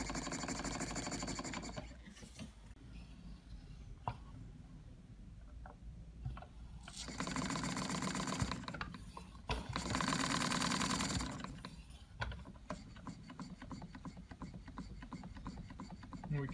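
A Stuart Turner 10H model steam engine runs close by, giving a steady mechanical chugging with rapid repetitive clatter and louder bursts of hissing, and no one speaks over it.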